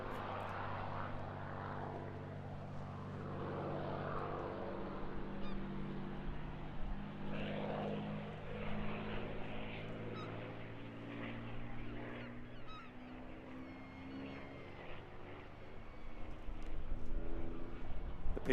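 A P-51D Mustang propeller fighter drones past at an airshow, its engine note rising and falling steadily at a moderate distance over about eighteen seconds, with faint ambient crowd noise.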